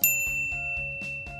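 Notification bell sound effect, a bright metallic ding struck once at the start and ringing on, with a soft rhythmic pulse beneath, clear and alone.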